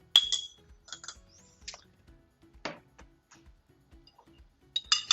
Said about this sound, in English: Stir up our egg a little bit.